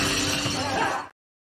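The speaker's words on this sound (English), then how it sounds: "So I just want to put a little clip of glass breaking" Glass shattering in an action-movie scene, a loud, dense crash of breaking panes lasting about a second before cutting off abruptly to silence.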